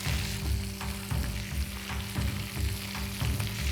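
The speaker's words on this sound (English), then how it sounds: "We have our onion rings here and we're going to transfer it directly into our bacon grease that's already nice medium temperature" Onion rings fry steadily in medium-hot bacon grease, giving a continuous close sizzle with soft pulsing crackles and no voices.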